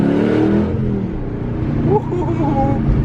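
An LS V8-swapped Porsche 911 engine growls loudly and continuously with a deep rumbling rev, and a voice speaks over it partway through.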